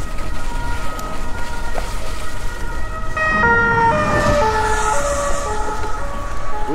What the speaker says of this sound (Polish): tam karetka, tu policja.